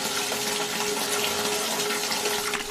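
Tap water runs steadily from a faucet as someone washes their face at a bathroom mirror, a constant close hiss with no talking over it, part of a Sundanese audio drama.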